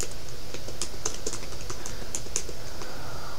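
Fingers typing on a computer keyboard for a photo search: quick, close, irregular key clicks with no talking.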